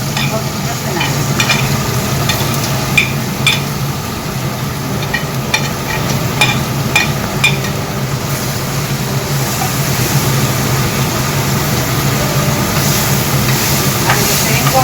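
Pork loin frying with tomato, garlic, onion and carrots while being stirred, a steady close sizzle with intermittent scraping clicks of the utensil, continuous and fairly loud throughout with no talking.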